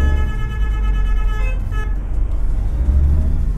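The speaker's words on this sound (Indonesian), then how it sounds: "Kok ada cek klakson belum?" A Hino truck's horn blasts loudly and steadily for about a second and a half close by, over the low rumble of an idling diesel engine that carries on once the horn stops.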